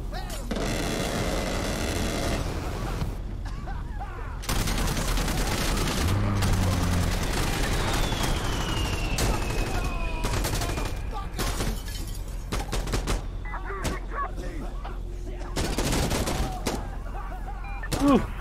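Insurgency Sandstorm gunfire with repeated shots, crashing impacts and booming bursts over a dense, loud game soundscape, with voices talking over it.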